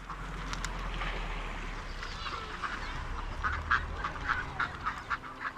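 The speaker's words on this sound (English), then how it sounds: "with the ducks and the other pond birds, with all the quacking and the splashing that goes on all the time" Ducks quack repeatedly on a park pond among other pond birds, sharp calls rising over a steady background of water and distant activity, with no talk.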